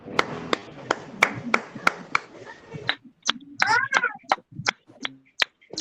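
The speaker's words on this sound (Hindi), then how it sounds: "जिसका माइक खुला उसको तालियों से स्वागत कीजिए" A few people clap to welcome a participant whose microphone has just come on in an online Pi Network meeting, with sharp, uneven hand claps and snaps, some close and some faint, scattered over a few seconds.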